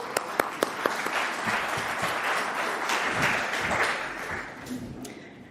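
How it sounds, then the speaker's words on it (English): An audience at a climate solutions forum morning session claps in a full round of applause, a few sharp early claps swelling into steady, dense clapping that holds for several seconds. "Just a round of applause."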